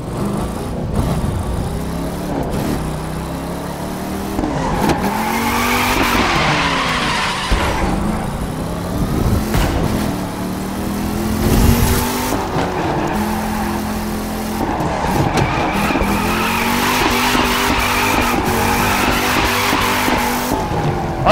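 A Dodge Challenger drifts through corners in the video game The Crew 2 with driving assists off: a loud engine rises and falls in repeated surges, with tire squeal and skidding laid over it as the car swings from bend to bend.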